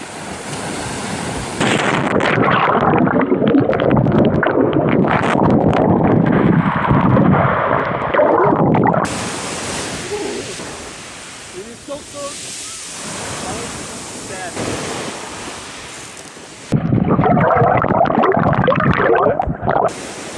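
A loud splash and rush of churning water, with surf and wind noise buffeting the microphone, fading to calmer lapping before another burst of turbulence.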